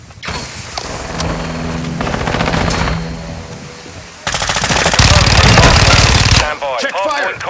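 Gunfire in Call of Duty: Modern Warfare II multiplayer plays as loud, rapid automatic bursts layered with game effects and shouted voices throughout.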